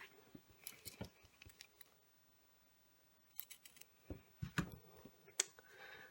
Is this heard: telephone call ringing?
no